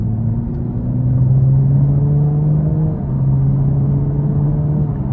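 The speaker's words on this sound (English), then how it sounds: "But we'll give it a little throttle here." A 2023 Chevrolet Camaro 3LT coupe's 3.6 V6 engine and dual-mode exhaust under light throttle, a steady loud droning hum that rises gently in pitch, heard from inside the car.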